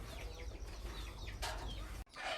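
Chickens clucking inside a chicken coop, a dense cluster of squawks and clucks close by over steady low background rumble, with a brief sharp burst of flapping or squawking near the end.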